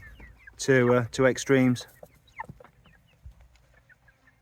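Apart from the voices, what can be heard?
chickens clucking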